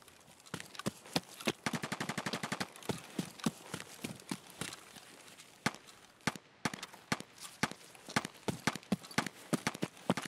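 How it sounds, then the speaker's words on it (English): Gunfire crackles in Escape from Tarkov, a long run of sharp shots in irregular bursts and single cracks, fairly loud with a dense rapid stretch early on. "I'm being drawn to the gunfire."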